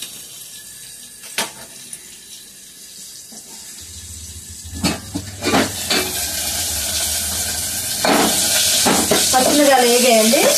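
Two tomatoes tipped into hot oil with cumin and green chillies for a Telugu cucumber-peel chutney, a quiet kitchen bed breaking into loud, steady sizzling and frying over the last few seconds.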